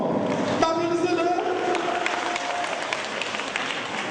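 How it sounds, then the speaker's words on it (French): Audience applause at a Christmas tree party held by the NGO Lanaya, broad continuous clapping from a crowd with a tonal sound and a voice over it early on, then steady clapping to the end. "On applaudit très fort"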